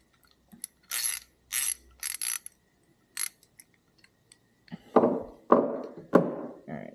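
Wrench or tool work tightening down the wheel on a two-stroke engine's timing wheel setup: a run of sharp clicking, ratcheting bursts, then several louder, heavier metallic clunks close by near the end, with no talking.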